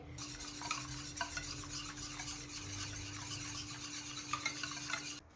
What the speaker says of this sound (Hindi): बेसन और दही को अच्छी तरह मिक्स करने के बाद इसमें मैंने जितने ड्राई मसाले थे वो सारे ऐड कर दूँगी और इनको भी मिक्स कर लेंगे